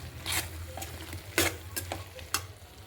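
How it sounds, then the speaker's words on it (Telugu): Okra frying in a pan is stirred with a few sharp scraping strokes over a low steady sizzle, close and clear with no talking. "ఇదంతా బాగా కలుపుకోవాలి."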